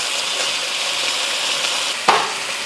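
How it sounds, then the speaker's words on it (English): Beef searing in a hot wok for Cantonese beef chow fun, a steady broadband sizzle with a sharp crackling burst near the end, close and loud with no talk. "Try to sear the other side."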